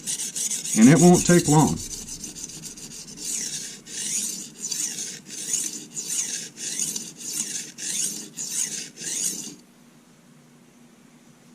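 A chef knife rasps across a Norton Crystolon combination oil stone in a run of regular back-and-forth strokes that stop abruptly, after someone briefly speaks at the start.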